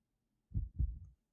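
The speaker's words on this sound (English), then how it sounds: "Heartbeat." Two deep, thudding heartbeat pulses from a Dead by Daylight trailer, lub-dub in quick succession, heard alone with no talk.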